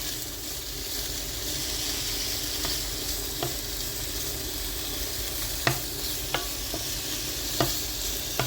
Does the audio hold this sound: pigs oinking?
no